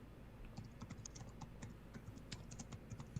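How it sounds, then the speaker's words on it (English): Rapid, faint clicking of someone typing on a computer keyboard picked up by an open microphone during an online call, the keystrokes irregular and continuous over a low background hiss. "Can y'all mute the mic just because I hear the typing"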